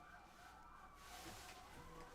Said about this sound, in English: I'm hearing police sirens. I'm hearing a fire truck, but I can't see anything.